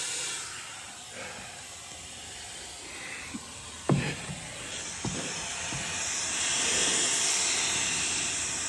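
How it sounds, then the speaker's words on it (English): A steady broadband hiss of steam from a blown tractor radiator hose runs throughout, swelling louder toward the end, with a few sharp knocks and clanks in the middle. "I'm pretty sure a hose just blew."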